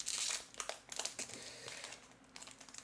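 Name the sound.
opening a Yu-Gi-Oh booster box, crinkling wrapper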